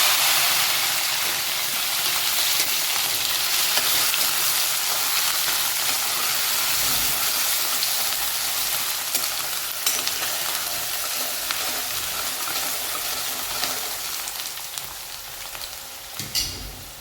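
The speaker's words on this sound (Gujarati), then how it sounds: "રાઈ જીરુંથી સારી રીતે વઘાર કરી લેશું અને બાફેલા કંટોલા નાખી સારી રીતે મિક્સ કરી દેશું" Boiled spiny gourd (kantola) sizzles and is stirred in hot oil tempered with mustard seeds and cumin, a steady close frying hiss with soft scraping stirs throughout and no talking.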